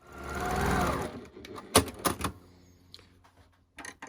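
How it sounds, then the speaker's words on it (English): A sewing machine stitches down the side of a fabric pumpkin storage pod, a steady mechanical whir that then breaks into short clattering bursts and stops, close and alone. "we stitch down this side as we go on"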